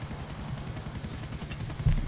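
Helicopter flying in GTA IV, a steady low rotor drone that holds evenly throughout at moderate level, with a brief louder bump near the end and no talk.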